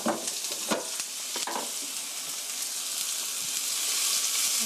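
Chopped onion and garlic hit hot oil in a pan for stir-frying, giving a steady close sizzle that swells slightly over time, with a few sharper crackles and spoon scrapes near the start.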